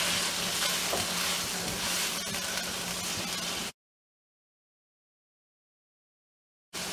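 Persian rice seasoned with black pepper is stirred in a hot pan, producing a steady loud sizzle and scraping for several seconds, followed by an abrupt silence before the frying noise returns briefly at the end.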